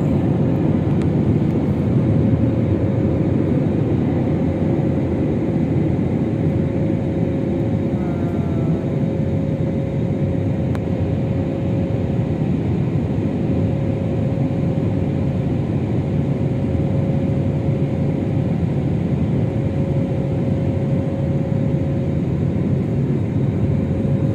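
Steady, loud airliner cabin roar during a night flight, a continuous dense rumble with a faint constant tone on top, unchanging throughout and with no voices.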